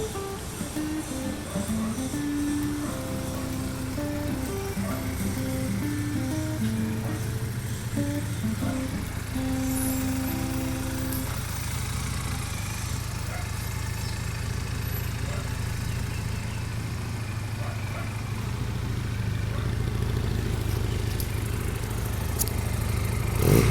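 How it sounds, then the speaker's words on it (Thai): A 2019 GPX Legend 250 Twin two-cylinder motorcycle on its stock exhaust runs steadily at idle, a low, even engine hum that stays constant and fairly close throughout, with no voices. "รถเครื่องดีเครื่องเงียบนะครับผม เป็นเครื่องยนต์สองสูบนะครับ"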